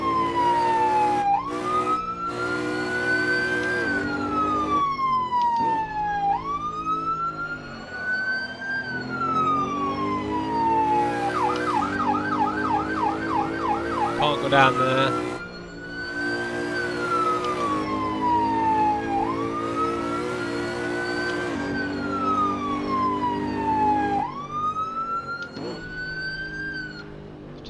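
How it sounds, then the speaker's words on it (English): Emergency vehicle sirens in Assetto Corsa, a driving video game: loud wailing sirens cycle up and down continuously over an engine drone, with a rapid yelp pattern midway; a voice briefly speaks. "Sirens on."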